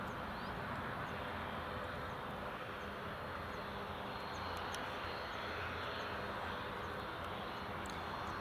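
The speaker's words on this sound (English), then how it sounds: "we've got KLM 737-800 from Amsterdam, which is just turned on to final approach now" A KLM Boeing 737-800 from Amsterdam on final approach to runway 25 at Newcastle International Airport, heard as a steady, moderately distant jet roar that holds evenly throughout with no talk over it.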